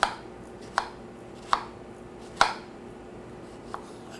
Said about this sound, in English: I'm going to take the top off. I've got some already cut up. I'm just going to do a nice little slice.